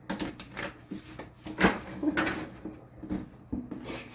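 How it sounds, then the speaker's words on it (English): A deck of playing cards being shuffled by hand, heard as quick crisp riffling clatters in short bursts at close range, with no talking. "Let me do a quick shuffle."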